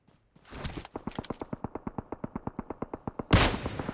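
Rapid automatic gunfire in PUBG Mobile, a steady burst of about twenty evenly spaced shots close and loud, ending in a heavier blast.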